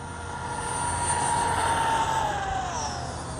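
An Arrma Gorgon RC car fitted with aftermarket tires cruises steadily, its electric motor giving a continuous high whine with a slowly shifting pitch, moderately loud and close, with no talking.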